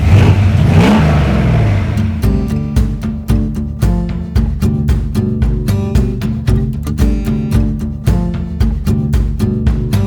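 A Ford Bronco engine revs hard and rises in pitch for a couple of seconds as it pulls away. A steady, rhythmic beat of sharp pulses follows and fills the rest of the stretch.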